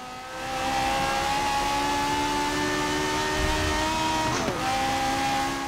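Open-wheel race car in Forza Motorsport 7 at Monza accelerating hard, a loud steady engine whine climbing in pitch, with a brief gear-shift dip midway and the engine note continuing alone.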